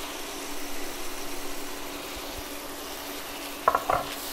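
Lamb pieces stirred in a pan with red chili powder, a steady sizzle with soft scraping strokes early on, then a couple of sharper clacks of the spoon against the pan near the end.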